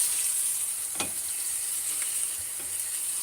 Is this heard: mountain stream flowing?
no